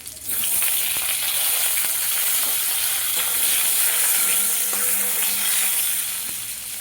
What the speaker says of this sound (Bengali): আমি এবার কিছু টমেটো দিয়ে দিলাম।